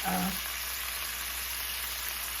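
Seasoned pork shoulder roast cooking, an even, unbroken sizzling hiss after a brief tonal blip at the start, with no talking.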